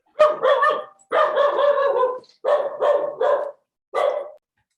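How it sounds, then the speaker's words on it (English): A dog named Chester barking downstairs in a house, five loud separate barks in an uneven rhythm, clear and fairly close, with silence between them. "Chester is barking now downstairs. He heard your dog."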